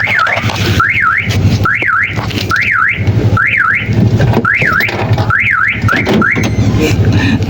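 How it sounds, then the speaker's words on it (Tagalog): A car alarm set off when its shock sensor is bumped during a push-start system installation blares loud and close, repeating a rising-and-falling electronic siren wail over and over. "Nabunggo ko yung shock sensor, tumunog tuloy."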